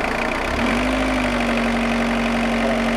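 A car engine roars close up, its low rumble rising in pitch as it revs and then holds at a steady higher whine.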